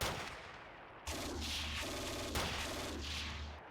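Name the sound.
infantry gunfire in video game Steel Panthers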